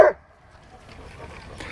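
A German Shepherd gives one short, sharp bark at the very start, followed by quiet room sound with a faint background murmur.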